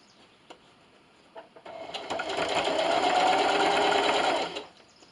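A home sewing machine backstitches slowly along a seam on an Easter carrot treat bag, a few soft clicks giving way to a steady, close mechanical whir that holds for about three seconds before cutting off.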